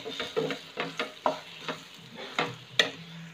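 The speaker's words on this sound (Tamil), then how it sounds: "இது நல்லா கிளறி விட்டுடலாம்." Spoon stirring spiced drumstick curry with salt, chilli powder and coriander powder frying in a pan: close scraping strokes at an uneven rhythm over a soft sizzle, with no talk.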